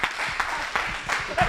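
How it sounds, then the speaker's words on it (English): Brief applause from an audience at a gaming hackathon winner announcement, a short burst of scattered hand claps at moderate level. "If we could give her a round of applause"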